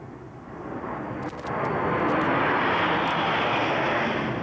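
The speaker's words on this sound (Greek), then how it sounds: "το αεροσκάφος που μετέφερε τη σωρό της Μελίνας Μερκούρη και τα αγαπημένα της πρόσωπα μπήκε στον ελληνικό εναέριο χώρο" An airplane carrying a coffin flies overhead, its jet roar swelling steadily from a distant hum to a loud, sustained rush that stays strong through the end.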